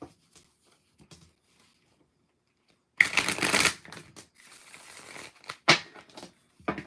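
Tarot cards being shuffled by hand, a quiet opening followed by bursts of crisp riffling and papery flicks at close range, with no talk.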